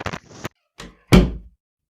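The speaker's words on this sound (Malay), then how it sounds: "renungan mereka tersentak dengan bunyi hentakan pintu dewan kuliah" A lecture hall door slams once for a radio drama, a loud heavy thud with a short decay, preceded by fainter creaks and bumps of the door moving.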